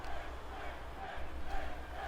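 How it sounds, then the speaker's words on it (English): Arena crowd in the wrestling game WWE 2K23 roars and chants for the Raw Women's Champion during a Raw show, a steady dense wall of voices with a slight swell near the end. "the crowd chanting for the champion"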